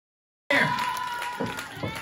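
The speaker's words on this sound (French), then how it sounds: "On applaudit très fort." Applause and cheering rise from an audience at a championship final ceremony, a sudden broad wash of clapping and crowd noise starting after a moment of silence and continuing steadily.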